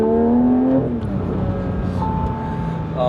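A Porsche 911 GT3 engine pulls hard, its rising note climbing then shifting as the car accelerates, loud and close with some road noise underneath.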